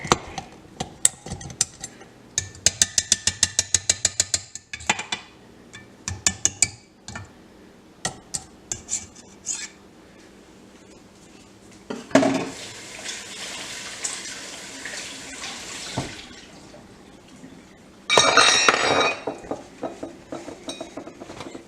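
A beater and pan come off a stand mixer while a Kahlua Black Russian cake is being made, with a run of sharp metallic clinks and taps, then bursts of louder rushing clatter, close by and with no talking.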